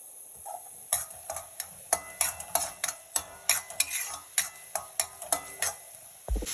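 A spoon stirs and scrapes ingredients sautéing in a pan while making ragi upma, giving a steady series of sharp, close metallic clinks over a faint sizzle, with no talking.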